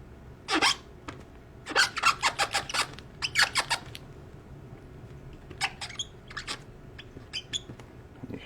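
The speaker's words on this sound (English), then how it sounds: "You hear the squeak of the pen as I do this." A pen squeaks on paper while an autograph is signed, giving quick bursts of scratchy chirps in irregular clusters, close and fairly quiet, with no talking.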